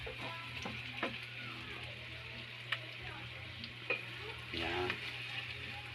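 Onion and green chili sautéing in a pan for spicy shrimp, a steady soft sizzle with a few sharp stirring clicks and scrapes, while a voice speaks briefly now and then.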